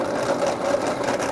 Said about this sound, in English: The sewing machine was my mum's.